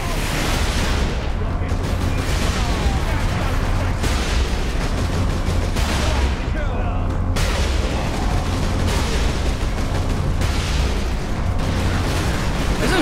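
Cannon fire and explosions from the Warhammer 40,000: Space Marine video game boom in dense, loud, repeated bursts, with a voice talking intermittently over the battle.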